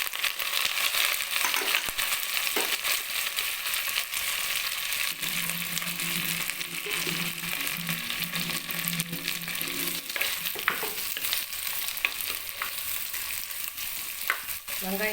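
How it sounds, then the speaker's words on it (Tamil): Onions, curry leaves, dried chillies and lump asafoetida sautéing in a pan, a steady loud sizzle with stirring scrapes and crackles throughout, no voices. "வெங்காயம் கொஞ்சம் வதங்கட்டும்."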